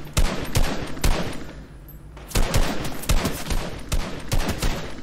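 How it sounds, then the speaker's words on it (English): Rapid bursts of automatic gunfire in the video game Fortnite, several loud close volleys of sharp cracks separated by a brief pause, with no talk over them. "Oh, we're getting shot out."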